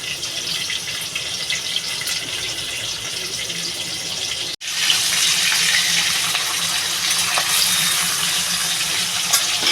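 Cut green bananas rinsed in a bowl of water at a kitchen sink, with steady running and splashing water throughout, a brief pause midway, then continued sloshing.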